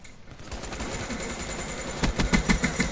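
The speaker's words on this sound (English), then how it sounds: "I'm shooting like crazy because there's just someone's in the house" Rapid gunfire in Call of Duty Black Ops III, a sustained automatic burst that grows louder and choppier toward the end, with no voices.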